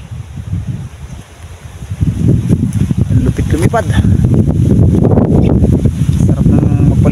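Strong wind buffets the microphone during kite flying, a loud, rough roar that swells after the first two seconds and stays heavy, while someone talks over it.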